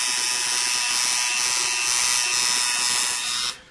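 A tattoo machine fitted with a 4-needle shader works on skin, giving a loud, steady, close electric buzz that holds constant for over three seconds before abruptly cutting out.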